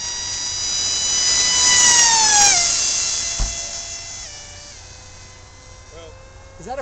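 A Stryker RC plane whines past, its high motor pitch rising to a peak and then dropping sharply as it goes by outdoors, with the whine fading and a faint thump midway.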